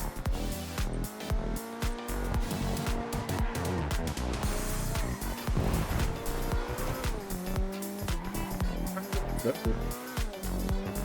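An Invetero Coquette D5 sports car driving hard in GTA Online, its engine roaring continuously while the tires squeal and skid through corners, loud and sustained throughout.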